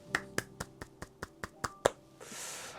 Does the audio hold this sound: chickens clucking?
no